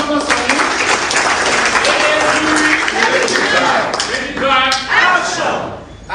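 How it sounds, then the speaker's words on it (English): Applause from a crowd at AAC party presidential primaries in Abuja, dense steady clapping throughout with cheering voices mixed in. "Please, an round of applause for him."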